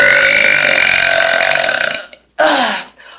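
A long, loud, throaty burp echoes in a bathroom, rumbling steadily for about two seconds before breaking off, then a second shorter burp bursts out right after.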